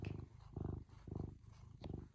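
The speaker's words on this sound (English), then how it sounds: "a cute boy who's purring" A cat purrs up close in slow, rhythmic rumbling pulses, about four breaths in and out, low and steady.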